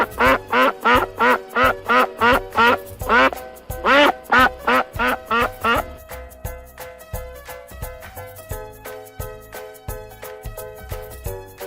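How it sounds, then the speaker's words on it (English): A duck quacks in a steady run of about a dozen loud, close, evenly spaced quacks over a cheerful children's music backing that carries on alone afterward. "Duck."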